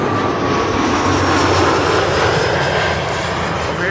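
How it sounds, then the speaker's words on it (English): KLM Embraer 175 jet arriving at Amsterdam Schiphol, a loud close roar of jet engines sweeping past with a broad rushing whine, steady and overwhelming for the whole moment. "That's an Embraer 175 arrival from Southampton"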